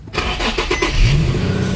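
An Infiniti G35/37 sedan engine cranks briefly and catches, settling into a loud, close idle with a rising whine as it fires up.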